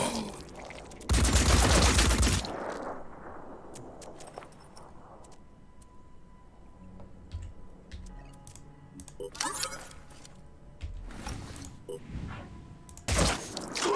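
Gunfire exchanges in the turn-based tactics game Phoenix Point: a loud sustained burst of automatic fire early on, followed by quieter mechanical clicks and scattered shots, with more bursts near the end.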